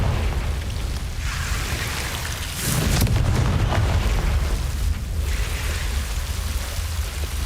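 A Confringo blasting spell goes off in Hogwarts Legacy, a loud, deep boom that swells over a rumbling bed of noise and then rolls on at a sustained roar, with no voices.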